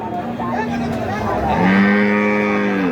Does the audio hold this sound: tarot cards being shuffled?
no